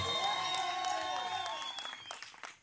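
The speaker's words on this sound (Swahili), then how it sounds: "Mpe Yesu makofi na vigelegele" A church congregation breaks into loud applause mixed with high, wavering ululation, the clapping dense and close before tailing off at the end.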